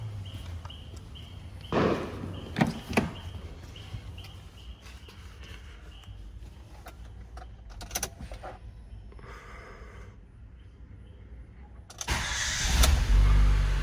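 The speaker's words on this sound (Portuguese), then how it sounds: "Pronto, funcionei o motor." A Ford EcoSport engine cranks and fires after injector cleaning, with clicks and a jangle of keys, a couple of bursts, then a steady idle that swells louder near the end; no talking.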